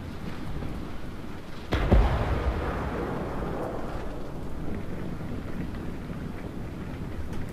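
A deep, booming powder blast explosion from the video game Total War: Warhammer hits suddenly, then rolls into a long, low rumble that lingers under a steady wash of background noise.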